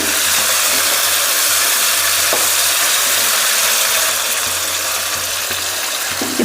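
Dried fish is added to a pot of ragi sangati dried-fish curry and stirred, with a loud, steady, broadband sizzle and bubbling that runs unbroken throughout, no talking.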